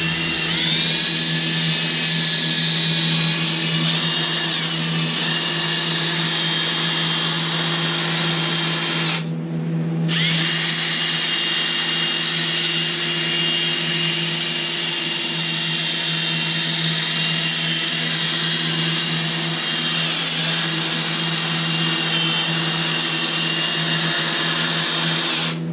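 A power drill whirs continuously at high speed while cleaning a motorcycle exhaust, close and loud, with a brief pause partway through before it spins up again.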